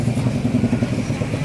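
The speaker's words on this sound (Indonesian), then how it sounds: "Di sini kalau petang motor memang banyak gila." Motorcycles pass by an evening Ramadan bazaar in Indonesia, a steady mid-pitched engine drone with slight swells as bikes go by, fairly loud and near, with no talk over it.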